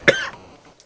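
A single sharp cough, close and loud, quickly fading into quiet breathiness.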